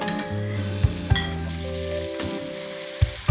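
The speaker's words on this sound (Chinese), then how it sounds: "加热底油，肉末炒到半金黄色，加蒜末、蚝油和蘑菇" Minced meat sizzles in hot oil in a wok with garlic, oyster sauce and mushrooms, a steady frying hiss broken by several sharp spatula clinks and scrapes while stirring.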